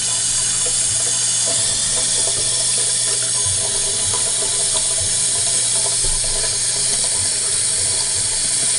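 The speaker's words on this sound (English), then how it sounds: "it's not turning the faucet off, look. Turned it on, now I can't turn it off." A kitchen faucet whose handle turns without shutting off lets water run nonstop, producing a loud, steady rushing hiss with a low gurgling undertone for the whole stretch.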